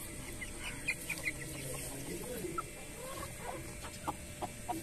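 Several chickens cluck intermittently in short, scattered bursts over a steady background hum, fairly close by and moderately quiet.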